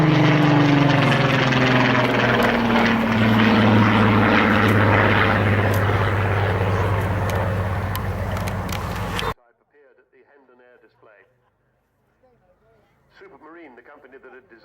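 Rolls-Royce Griffon aero engine of a Supermarine Spitfire, a big 37-litre piston engine, a loud sustained propeller drone with a shifting pitch passing close, then cutting off abruptly to quieter background sounds and faint talk.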